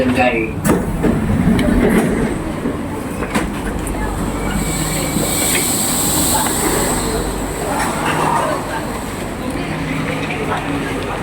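Singapore MRT East-West Line train running with a steady, loud rumble and rail rattle throughout, with voices faintly mixed in around the carriage.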